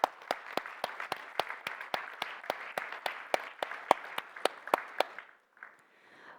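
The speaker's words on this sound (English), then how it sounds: "all of you really deserve a big round of applause" Debate audience applause in a hall: steady, evenly spaced clapping continues for about five seconds and then fades out, after which a single voice starts to speak.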